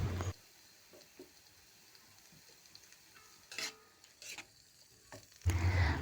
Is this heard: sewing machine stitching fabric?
no